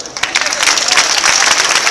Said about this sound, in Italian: me lo meriterò un applauso